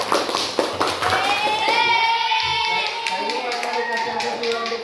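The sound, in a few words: classroom applause for group 3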